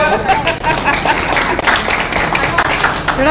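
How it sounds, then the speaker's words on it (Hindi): An audience at a blogging talk breaks into applause, a dense, fairly loud patter of many hands clapping with some background voices mixed in. "राहुल कश्यप के लिए जोरदार तालियां"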